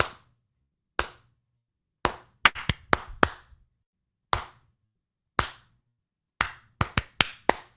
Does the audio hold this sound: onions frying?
no